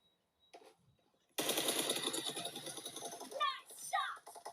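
Automatic gunfire in the mobile shooter BGMI, played on a 2021 iPad Pro with the M1 chip, erupts suddenly as a dense, loud rattling burst after a quiet start, mixed with in-game voice callouts.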